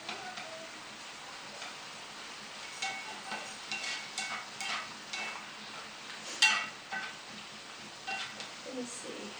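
Bok choy sautéing in a pan for a Vietnamese caramelized yellowtail dish, with a soft steady sizzle and scattered scraping ticks from a utensil moving the greens, moderately close.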